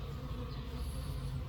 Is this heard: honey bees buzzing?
yes